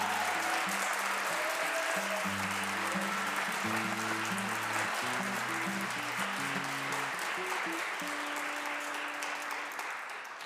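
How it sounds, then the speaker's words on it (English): An audience applauds poetry recitation finalists at a state competition, with sustained clapping throughout while a steady musical backing of low held tones plays underneath. "let's give a round of applause and a gracias, a thank you to all of our finalists"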